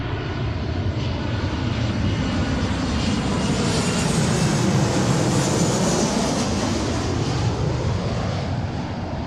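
A Delta Boeing 737-800 arriving from San Diego comes in to land on runway 34L at Seattle airport with a loud, sustained jet roar. The engine noise swells and shifts in pitch as the plane passes close by.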